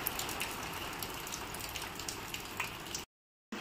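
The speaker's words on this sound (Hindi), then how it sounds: "सुबह सुबह बारिश हो रही है।" Morning rain falls steadily, a soft continuous patter with scattered drops, before cutting to silence near the end.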